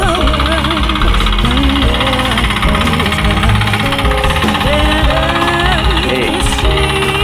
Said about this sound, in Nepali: हात ट्र्याक्टरले यस्तो मजाले जोत्छ है हेर्नुहोस् है